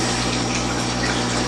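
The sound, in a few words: pump moving water through a hose for a pond water change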